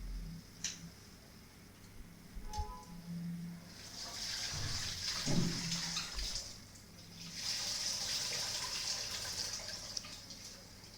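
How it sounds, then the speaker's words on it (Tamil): Soaking water drains off basmati rice for a plain kuska biryani, a faint, uneven trickle and splash of running water with scattered drips, quiet and close, without talk. "இந்த தண்ணி நல்லா ட்ரைன் பண்ணிவிட்டு நம்ம அரிசியை ஆட் பண்ணிக்கலாம்"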